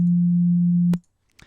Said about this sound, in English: if we reduce everything except the first harmonic, it will be a sine wave